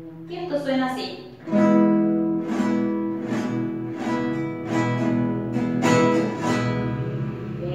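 An acoustic guitar chord is strummed and left ringing, followed by several more strums that sustain and fade, played alone without talking.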